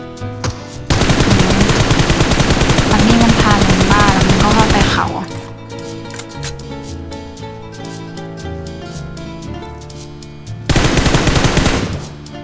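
Gunfire in PUBG Mobile comes as a long, loud burst of rapid automatic fire, a quieter stretch of distant shots, then another burst of sustained shooting, with no talking.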